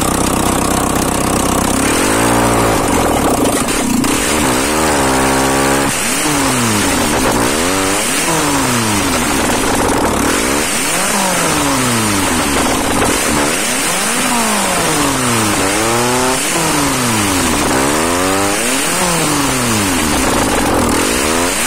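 A Lada fitted with a Toyota 1NZ-FE engine runs and revs repeatedly, the engine note climbing and falling in a series of sharp bursts over a steady idle, loud and close with no talk.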